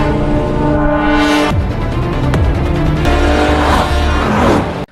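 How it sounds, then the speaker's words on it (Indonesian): A car in a Korean gangster film chase speeds off with a loud, close engine roar that climbs in pitch through several hard revs, with a brief tire squeal, before stopping abruptly. "Kang Kyung langsung tancap gas dengan mobilnya."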